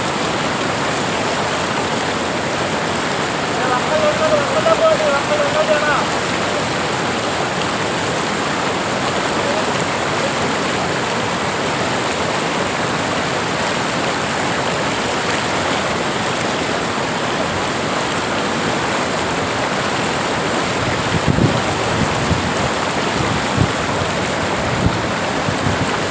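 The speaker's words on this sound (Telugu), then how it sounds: "నీటి ప్రవాహం ఎక్కువగా ఉంది." Strong floodwater rushes past during a rope rescue, a loud, steady broadband roar that fills the whole stretch without letting up.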